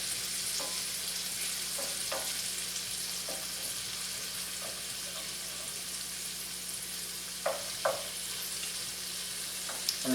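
Garlic fries in a pan with a soft, steady sizzle, broken by a few light scrapes and clicks as it is stirred around, no talking over it.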